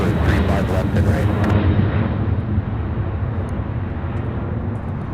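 UPS heavy freighter jet departing SDF, a loud, deep roar rumbling close by, its hiss fading gradually as the aircraft climbs away.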